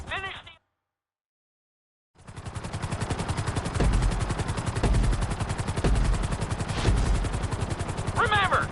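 A helicopter in a video game flying lesson thuds with steady, fast rotor beats after a brief silence, loud and constant, with short bursts of voice near the start and end.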